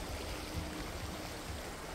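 A river flows beside a campsite in Antipolo, Rizal, with a steady, full rushing of water that holds the same level throughout, with no voices.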